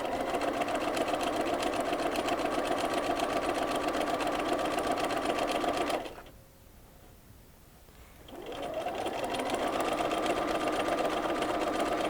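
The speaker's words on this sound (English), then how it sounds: "Now I like to sew everything in pairs." Sewing machine stitching quilt strips for a flea market treasure quilt, a loud steady whirring run that stops for about two seconds, then resumes at the same even pace, close by with no talking.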